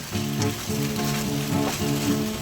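Pasta and blanched broccoli are tossed in a hot pan with butter and garlic, giving a steady, close sizzle with soft stirring scrapes throughout.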